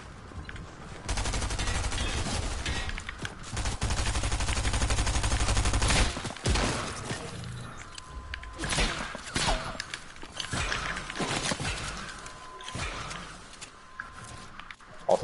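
Rapid automatic gunfire from a favorite weapon in a shooter, long sustained bursts up close and loud, then broken into shorter volleys with footsteps and clatter between.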